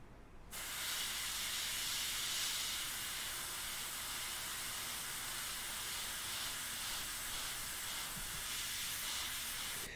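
An airbrush sprays paint for a portrait in steady, continuous airflow, a loud hiss that holds for nearly the whole stretch without pause.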